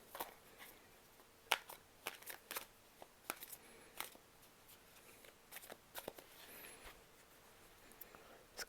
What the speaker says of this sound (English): Shuffle a little bit.